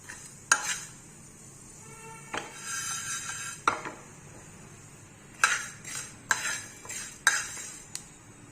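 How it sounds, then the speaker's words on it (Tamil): Fenugreek seeds frying in hot oil for a traditional South Indian kulambu, crackling and spluttering in short bursts over a soft steady sizzle, with a few clinks of a spoon against the pan. "இப்போ நமக்கு பொரியுது ஒரு மாதிரி செவந்து வருது"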